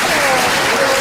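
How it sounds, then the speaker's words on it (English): A crowd claps at a Donald Trump speech heard over a livestream, a dense, steady burst of applause filling the moment loudly and evenly. "Nice clap, huh?"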